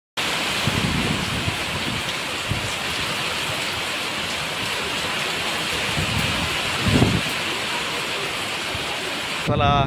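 Steady rain falls over the Jayakwadi dam area at Paithan, a dense continuous hiss with a couple of brief louder swells, no voices standing out.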